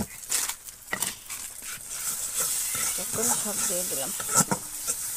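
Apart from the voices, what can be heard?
ground spices and ginger-garlic paste being stir-fried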